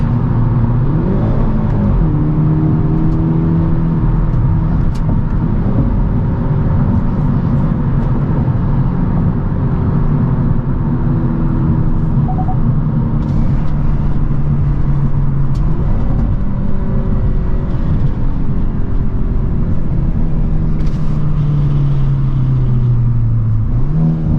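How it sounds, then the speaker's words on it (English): A 2022 Hyundai Elantra N sports car engine roars and revs steadily through its exhaust while accelerating, a deep continuous rumble with rising and falling pitch, no voices. "This exhaust just sounds amazing."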